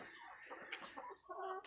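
Adler Silver chickens, two roosters among fifteen hens, clucking and squawking in a short, close burst of overlapping calls, fairly quiet overall.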